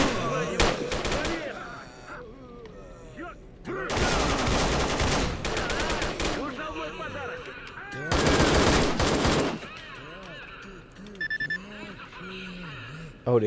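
Gunfire in the Call of Chernobyl video game comes in loud automatic bursts separated by gaps, while someone talks over the action between volleys.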